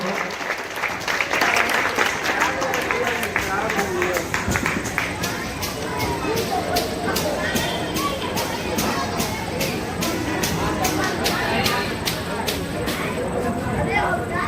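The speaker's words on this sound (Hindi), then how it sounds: "तो ताली हो जाए इस सम्मान के लिए महाराज जी को।" An audience applauds at a ceremony held by a Rajput community to honour a spiritual leader. The clapping is sustained and dense throughout, with crowd voices talking over it.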